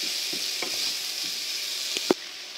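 Mushrooms stirred in a frying pan over low heat, a soft steady sizzle with a few light scrapes of the utensil and one sharper knock near the end, no voices.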